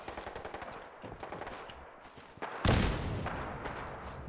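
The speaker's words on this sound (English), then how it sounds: "Someone's shooting at you." Gunfire in the video game Fallout 4: rapid automatic bursts rattle continuously, then a louder, nearer blast of shooting lands around the midpoint and keeps going, with no talk.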